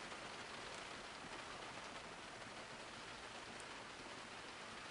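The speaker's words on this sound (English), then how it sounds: "Man, I wish it wasn't rainy and it was nice and sunny." Steady rain falling outdoors in a field, a soft continuous hiss of drops, faint and even throughout with no voices.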